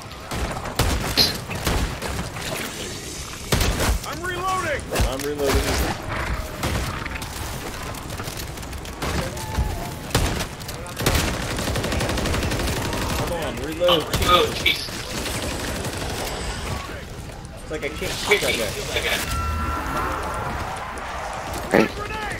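Gunfire rattles through a zombie-mode shooter video game in repeated bursts and booms, shotgun blasts among them. Excited players talk over much of the shooting throughout.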